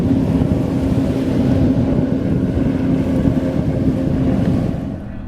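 A racing powerboat with two 300 hp Mercury outboard motors roars past at an offshore grand prix in Dunkirk, New York, a loud sustained engine drone with wind buffeting, fading slightly at the end.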